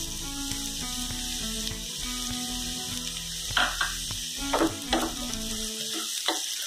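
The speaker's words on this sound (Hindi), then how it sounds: "मटर को भी हमें अच्छे से फ्राई करना है।" Peas tossed into a pan of nearly cooked vegetables for Mumbai-style pav bhaji fry with a steady sizzle, broken by a few louder clatters of a spoon against the pan. No one speaks.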